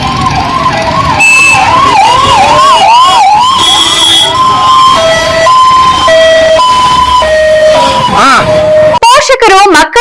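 Several ambulance sirens wail loudly and close by, rising and falling tones overlapping with stepped two-tone blasts, ending in choppy bursts, and voices are heard faintly beneath them.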